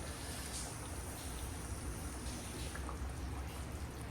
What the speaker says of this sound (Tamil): மழை வேறு வருது வெளியில்